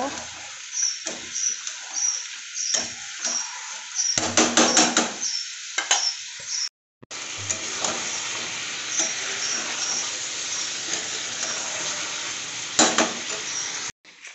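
Meat being sautéed in a pan in a home kitchen, a steady close sizzle and hiss with scraping stirs and clinks of a utensil, a brief break in the middle, and a voice talking over parts of it.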